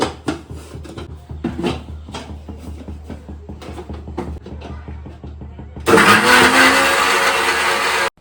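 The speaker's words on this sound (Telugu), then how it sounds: "ఇప్పుడు వీటిని కూడా మిక్సీ అయితే పడేసుకుందాం" Talk and clattering for several seconds, then a loud, steady motorized roar of a mixer grinder grinding chutney starts abruptly and runs to the end.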